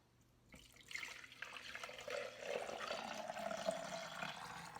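Water poured out of a water bottle during a homemade potato slime project, a steady splashing pour that starts after a second of quiet and runs on evenly and close, with no one talking.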